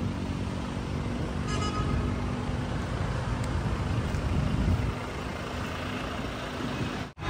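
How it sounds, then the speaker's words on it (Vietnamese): A 2022 Hyundai Tucson diesel engine idling, a steady low rumble heard close by that holds even and continuous before cutting off abruptly near the end. "Máy dầu đây các bác này"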